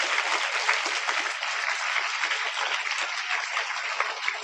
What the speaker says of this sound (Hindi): उमंग के लिए एक बार जोरदार तालियां बजा दो भाई